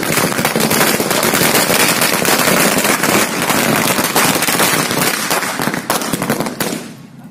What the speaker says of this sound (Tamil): பட்டாசு வெடித்து தங்கள் வெற்றியினை கொண்டாடினார்கள்